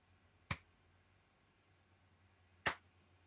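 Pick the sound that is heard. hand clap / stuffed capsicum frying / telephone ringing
hand clap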